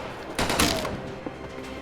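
A volley of gunfire aimed at a tree line comes as a cluster of overlapping shots, followed by a few scattered rounds, moderately loud against an outdoor background.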